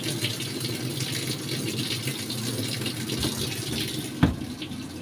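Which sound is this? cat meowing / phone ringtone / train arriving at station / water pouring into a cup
water pouring into a cup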